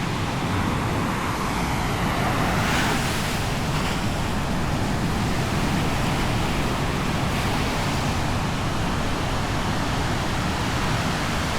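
Ocean surf breaking at high tide in Sayulita, a dense, continuous roar of waves with wind buffeting the microphone, steady and loud with slight swells, no voices.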